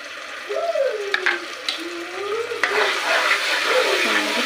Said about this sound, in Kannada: ಈಗ ಶುಂಠಿ ಬೆಳ್ಳುಳ್ಳಿ ಪೇಸ್ಟು ಹಾಕ್ತಿದ್ದೀನಿ.